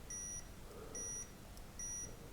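A small buzzer in a Hypertough multimeter gives three short, thin continuity beeps at an even rhythm, fairly quiet over a low background hiss.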